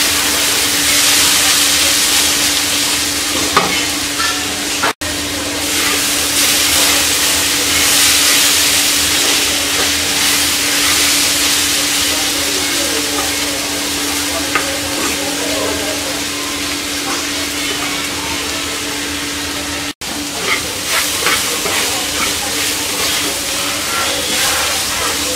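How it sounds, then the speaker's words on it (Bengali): Potato and papaya curry cooks in an uncovered pan with a steady, loud sizzle and hiss, with occasional stirring clinks and brief pauses throughout. "এবার আমরা ঢাকনা ছাড়া 7-8 মিনিট নেড়ে চেড়ে রান্না করবো।"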